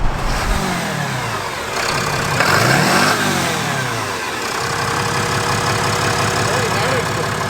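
A Cummins diesel engine revs up and settles back, its turbo intake whistling and rushing up close, with someone talking over the steady idle afterward.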